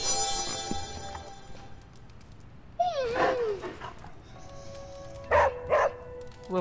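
A dog barks in the game Marvel's Midnight Suns, with a drawn-out whimpering yelp followed a moment later by two quick, close barks over soft background music.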